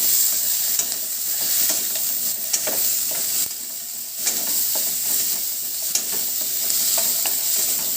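Dried red chillies fry in hot oil in a pan, giving a steady bright sizzle broken by scraping knocks of a spoon stirring every second or so, close and alone.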